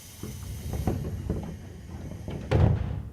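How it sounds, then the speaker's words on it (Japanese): Doors of a JR 201 series train on the Chuo main line in the PS3 game Railfan slide shut, with a series of soft knocks and a heavier thud near the end. "5番線ドアが閉まります。"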